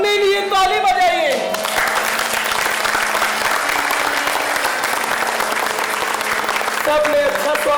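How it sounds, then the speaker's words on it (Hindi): Performers and audience at a stage play of Chanda Bedni applauding after a song, a clear sung note fading into a full, steady burst of clapping that carries to the end, with voices faintly underneath. "सब लोग लाइन अच्छे से लगाइए और अपने लिए ताली बजाइए"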